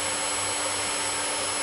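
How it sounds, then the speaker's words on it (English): A pet grooming dryer runs with its hose detached, giving a steady, loud, broadband whooshing roar that holds unchanged throughout with no voices. "the dryer is on, the hose is detached, and it's just a noise"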